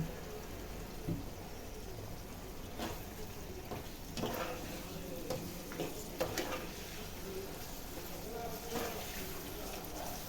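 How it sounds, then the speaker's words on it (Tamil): Egg and capsicum semi-gravy being stirred in a pan after soy sauce goes in, a soft steady sizzle with scattered spoon scrapes and taps throughout. "இப்போ நாங்கள் கொஞ்சம் சோயா சாஸ் ஆட் பண்ணிக்கிறோம்."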